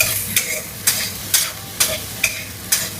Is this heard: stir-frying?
yes